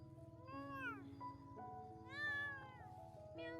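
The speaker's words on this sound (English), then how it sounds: "The kittens were shivering from the cold and kept crying out for help." An abandoned kitten rescued from a cold field meows in a few close, loud cries, with a strained higher call near the end.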